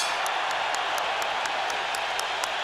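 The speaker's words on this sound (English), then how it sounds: "And the crowd rises to appreciate the intensity of the score." At a boxing match between Marco Antonio Barrera and Juan Manuel Marquez, a large arena crowd rises and applauds, a steady wash of clapping and cheering with faint rhythmic taps.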